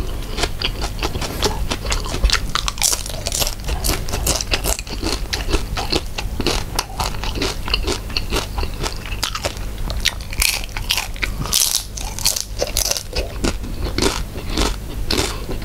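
Crispy fried pork being chewed up close for ASMR: continuous loud, crackling crunches with steady biting and chewing throughout, no talk.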